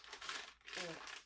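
Wrapping paper on a gift crinkles and rustles in two close bursts with a short pause between them. There is also a trace of voice.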